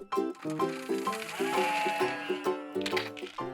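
Several sheep bleat at feeding time on a sheep farm in Goheung, South Korea, with loud, overlapping wavering calls close by and barely a pause between them.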